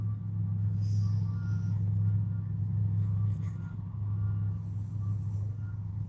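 A truck backs up on a street, its reversing alarm beeping faintly and steadily over a loud low engine rumble, with no one talking.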